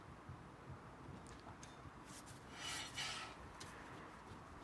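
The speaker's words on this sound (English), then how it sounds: "That noise you're hearing there, that's just in your steering rack." A low, steady rasping grind from an Austin Allegro steering rack, with a few brief scraping peaks near the middle, fairly faint and with no voices.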